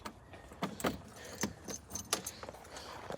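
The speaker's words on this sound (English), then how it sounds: "let's put the keys in the ignition." Keys jangle and clink as they are fitted into the ignition of a Yamaha Rhino side-by-side, a series of close, sharp metallic rattles and taps with no talk.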